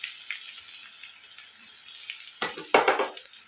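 Chopped big onion frying in hot oil with mustard seeds and curry leaves for prawn gravy: a steady close sizzle, then louder scraping stirs toward the end.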